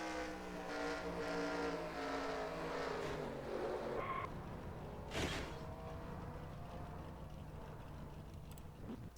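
Onboard engine drone of the number 5 stock car on a road course in the NR2003 racing game, a steady loud roar with shifting pitch as the car brakes and accelerates, a brief skid-like burst midway.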